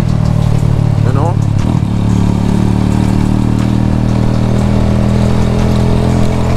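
A motorcycle engine runs steadily at a constant drone during a ride in Jamaica, with a brief rattling clatter early on.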